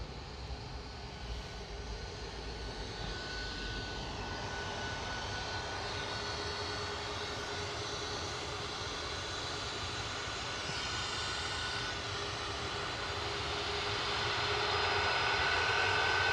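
A Boeing 737 Max 8 jet taxiing at Manchester Airport heading for departure, a steady distant engine roar with a high whine that swells gradually louder toward the end.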